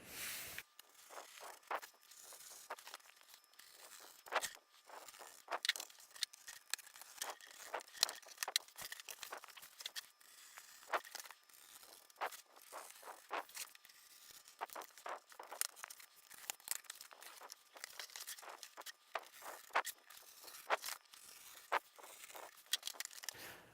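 A blade cuts along lines through cardboard box sides, heard as faint, close, irregular scratchy slicing strokes and crinkles. They repeat in short bursts over a quiet background, with no talk.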